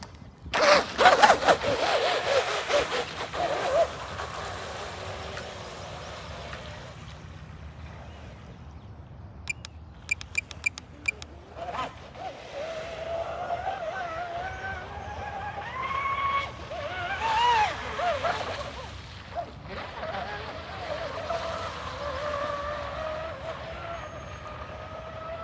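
Aquacraft Motley Crew RC boat run at full throttle on open water, a high electric whine that rises and wavers for long stretches, with a few sharp clicks and brief speech early on.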